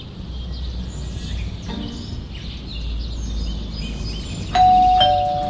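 A two-tone doorbell chime rings out sharply near the end in the horror game Scary Teacher, standing over a steady low ambient hum with faint bird-like chirps in the background.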